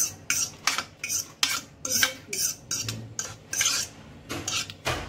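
Custard apple pulp is being stirred into thickened basundi in a pan, with repeated spoon scrapes and clinks against the metal in an irregular rhythm, close and fairly loud.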